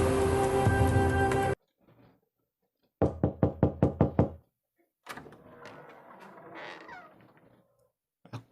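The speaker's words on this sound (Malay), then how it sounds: "pintu bilik aku diketuk." Knocking on a small bedroom door at 1 a.m., a loud run of about seven sharp raps in quick succession, set off between quiet gaps and other indoor noises.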